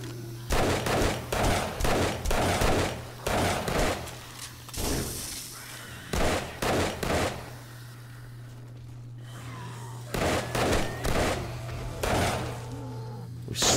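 Bursts of explosions from bombs going off outside a base during horde night in 7 Days to Die, clustered repeated blasts separated by short lulls over a steady hum.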